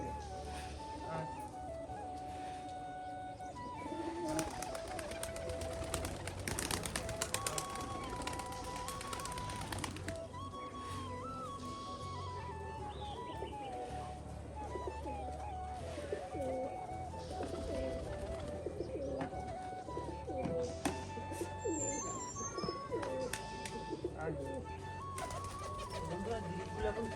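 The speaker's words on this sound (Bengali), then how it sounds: "যে পায়রাগুলো বেরোয়নি সেগুলো কিন্তু এখন ঘর থেকে বের করে দেবো" Rajshahi pigeons coo softly while feeding on grit, low repeated cooing from several birds at close range, with occasional voices in the background.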